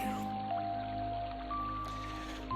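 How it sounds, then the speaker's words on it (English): Steady rushing water, like a waterfall, fills the background ambience of the Kingdom Hearts video game, a continuous hiss under faint sustained musical tones with no clear splashes. "I hear some water, like water rushing, or like a waterfall or something."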